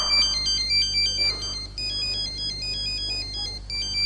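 A mobile phone ringtone plays as a bright, repeating electronic melody, steady and fairly loud throughout, during a stage play about a mobile phone, with no talking.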